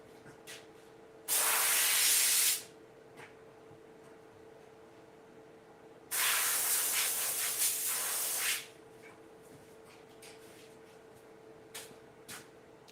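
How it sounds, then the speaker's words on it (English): Compressed air blasts onto an xTool P2 laser cutter in two strong hissing bursts, the first about a second long and the second about two seconds, with quiet handling clicks in between. "Let's go hit that with some compressed air."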